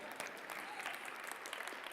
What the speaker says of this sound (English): you can clap, that's fine.